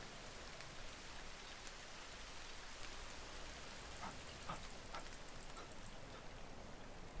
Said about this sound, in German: Ich denke mal, es regnet noch ein bisschen, aber das ist akzeptabel.